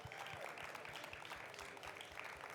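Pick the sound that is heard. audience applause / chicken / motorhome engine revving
audience applause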